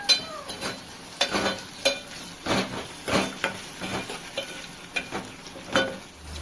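Onion, curry leaves, green chillies and tomato frying in a pan, with a soft sizzle beneath repeated sharp stirring and scraping strokes of a spoon, close and intermittent.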